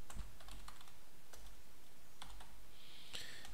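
Computer keyboard keys clatter as code is typed during a data structures lecture on insertion sort, with quiet, irregular keystrokes in short bursts and small pauses between them.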